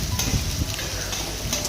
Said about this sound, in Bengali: এটা একটু নাড়াচাড়া করব 1-2 মিনিটের জন্য, যাতে একটু লাল হয়ে যায়